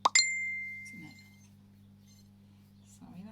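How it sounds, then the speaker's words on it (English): A mobile phone notification chime rings out near the start, a short bright ding with a lingering tone, then fades into a quiet room with a steady low hum and faint talk. "that was my phone going off"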